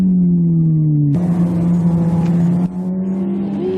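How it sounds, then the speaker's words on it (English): Motorcycle engine revving high as the rider downshifts too early, the engine note jumping up in steps with a sustained loud whining drone between shifts, heard close and alone. "Too early downshifting uses the engine as a brake and over-revs it."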